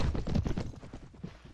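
Galloping horse hooves from the video game Mount & Blade: Warband, a fast, steady clip-clop rhythm of repeated thuds that continues without a break for the whole short stretch.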